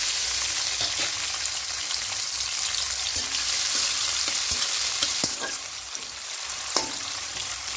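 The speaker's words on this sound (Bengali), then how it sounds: "পেঁয়াজটা দিয়ে লাল করে ভেজে বেরেস্তা করে নেব।" Onions fry hard in hot oil for Hilsa pulao, a loud, dense, continuous sizzle heard close up, broken by scattered clicks and scrapes of stirring. No one speaks.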